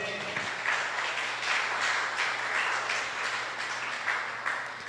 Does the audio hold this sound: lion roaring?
no